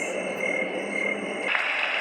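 Dense, steady chirping of crickets forming a continuous high-pitched drone, with a slight shift in tone near the end.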